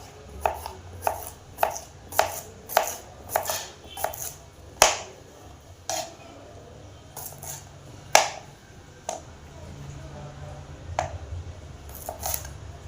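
Sundakkai (turkey berries) are cut into rounds with a knife for drying, giving close, crisp knocks on a board, first in a quick steady run, then slower and more scattered.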